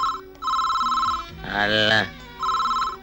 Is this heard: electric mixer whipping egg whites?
no